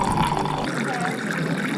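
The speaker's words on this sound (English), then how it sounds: "Hot water on tap." Hot water runs from a dispenser tap at a Genki Sushi conveyor-belt restaurant, a close, steady splashing pour lasting under two seconds, with a low rumble in the room that cuts out partway.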